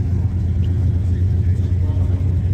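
A car at a large outdoor vintage car rally gets a couple of revs, a loud, continuous engine rumble filling the scene with crowd noise and possible talk mixed in.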